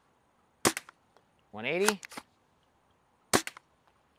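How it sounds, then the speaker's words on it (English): A Worker Seagull half-dart Nerf blaster is dry fired, giving two sharp snapping cracks a few seconds apart, each followed by a short mechanical rattle, with a brief whirring slide sound between them and a spoken number. "this thing is pretty dry fire proof. I dry fired it there."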